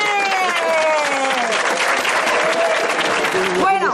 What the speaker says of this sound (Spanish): Bueno, aplaudisteis, pero todavía tenéis que aplaudir más.